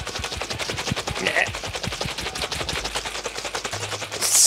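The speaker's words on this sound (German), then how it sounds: "Deckel wieder drauf und schütteln den Spaß wieder" Salad dressing is shaken hard in a closed lidded container, a rapid, continuous rattle of sloshing, knocking bursts kept up for several seconds at close range, getting a little louder at the end.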